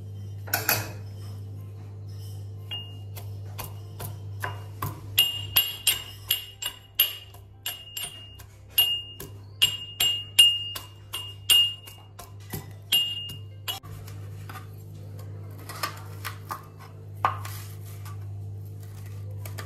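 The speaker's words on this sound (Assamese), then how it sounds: "এয়া ৰচুন আদা এইখিনি এতিয়া পিচি ল'ম" Garlic and ginger being crushed in a kitchen while cooking Assamese bamboo chicken, heard as a string of sharp clinking, tapping knocks of utensil against dish, irregular and close, over a steady low hum.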